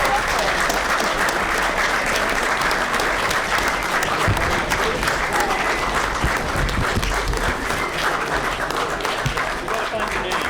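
An audience claps for a task force at a thank-you presentation, sustained loud applause from a room full of people lasting several seconds, with a few voices mixed underneath.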